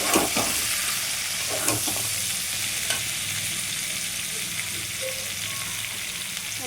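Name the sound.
taro stolons (loti) added to hot pan, frying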